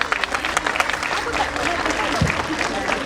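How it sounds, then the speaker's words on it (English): An audience applauds children after a spring festival song and dance performance, the clapping loud and scattered at first, then settling into a steady round, with a voice speaking briefly over it. "Can we have a huge round of applause once more for the kids?"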